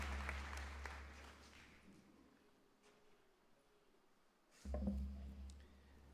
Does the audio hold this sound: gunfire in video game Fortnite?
no